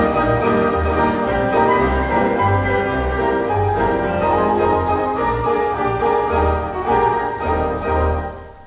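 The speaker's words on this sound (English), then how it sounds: "over to the left of the organ is a grand piano attachment" A grand piano attachment on the Granada Slough Wurlitzer theatre organ plays a sustained, full passage with rich chords over a steady bass, loud and continuous with no talking, fading slightly at the end.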